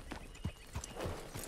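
Hooves clip-clop on the ground as a horse walks and snorts in Red Dead Redemption 2, soft uneven steps with a faint whinny, fairly quiet with no voices.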